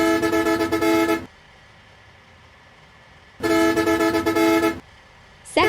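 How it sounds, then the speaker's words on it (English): A bus horn from the Bus Simulator Indonesia game sounds two loud, steady blasts of about a second each, separated by a pause with a faint engine idle beneath. "First horn."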